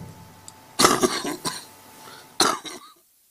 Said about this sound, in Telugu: అందరూ దగ్గుతున్నారు పాపం